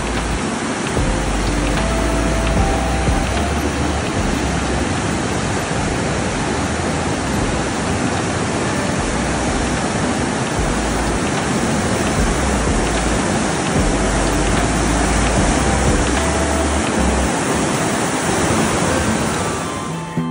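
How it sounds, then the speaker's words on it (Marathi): River water pours and churns alongside gusting wind in an unbroken, fairly loud wash of noise that holds steady from start to finish, with no voices over it. "चला, आता तुम्ही काही सेकंद ह्या पाण्याचा आणि वाऱ्याचा आवाज ऐकून बघा."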